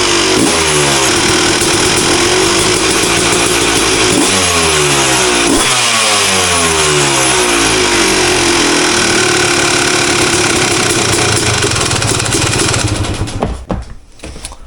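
Yamaha YZ250 two-stroke dirt bike with newly changed jetting runs loud and close, revving up and down in repeated rising sweeps before settling into a steady rough drone, then cutting off near the end.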